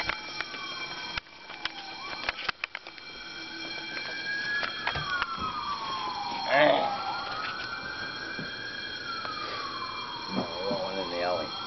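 An alarm going off during an apartment fire: a loud, wailing tone that sweeps slowly up and down, with scattered knocks and background noise from people nearby.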